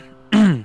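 A single short throaty cough or throat-clear, close and loud, rising abruptly and then fading.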